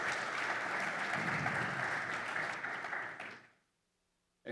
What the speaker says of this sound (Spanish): Un aplauso para ellos, ahora sí.